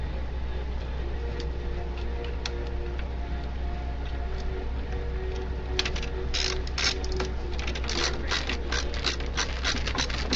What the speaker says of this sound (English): Screw in the white plastic piece.